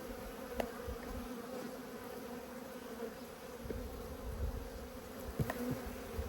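Honey bees hum steadily around an open hive during an apiary inspection, a continuous close drone with faint clicks and knocks of frames being handled.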